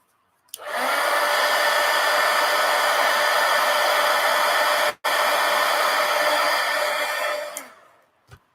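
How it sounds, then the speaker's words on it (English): A heat gun drying black acrylic paint on a collage blows a steady, loud whooshing roar for about seven seconds, with a brief cut partway through, then switches off with a click. "Now I'm going to hit that with the heat gun."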